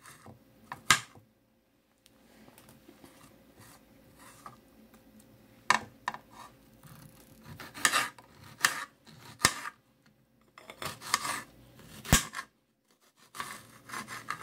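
A knife chops fresh strawberries into fine, dice-sized pieces for a strawberry yogurt pie, giving irregular bursts of crisp cutting and scraping on a board with quiet gaps between, close and moderately loud.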